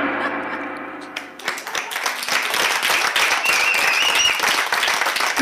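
Audience applause follows an improvised theatre scene at a live radio show, a dense burst of clapping rising after about a second and continuing steadily, fairly close and full, with a faint voice near the start.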